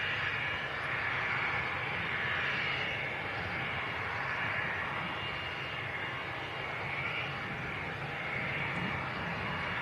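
A small Cessna Citation business jet at Manchester Airport, taxiing with a steady, fairly distant engine roar and whine that holds evenly throughout with no talk over it.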